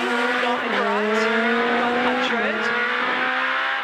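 A rally car runs through a forest stage during the 2013 Quit Forest Rally power stage and understeers wide in a corner. Its loud, continuous engine drone shifts up and down in pitch through the turn.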